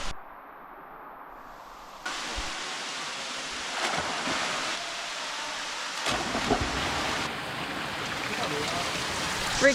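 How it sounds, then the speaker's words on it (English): Hot waterfall at El Questro Station pouring steadily over slippery rock, a constant broadband rush that grows louder a couple of seconds in and stays up, with a nearby splash or knock now and then. "I'm just sitting here in this like hot waterfall"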